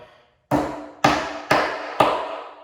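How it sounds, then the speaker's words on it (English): Four sharp, evenly spaced taps from a hammer or rubber mallet setting a plug into a deck board, each strike loud and close with a short ringing decay, after a brief silence. "You take your hammer or rubber mallet."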